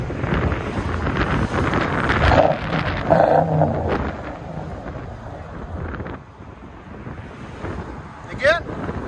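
Strong wind buffets the microphone in heavy gusts, a rough rushing roar over faint voices and a brief high squeal near the end.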